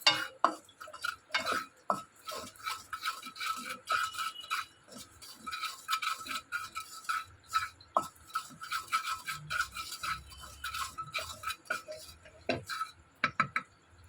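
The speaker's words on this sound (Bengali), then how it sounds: "পরিমাণ মতো নুন, দিয়ে একটু নাড়াচাড়া করতে হবে" Paneer roll filling is stirred in a pan after salt goes in, giving irregular close scraping and clicking strokes of a spoon against the pan, fairly quiet, with no one speaking.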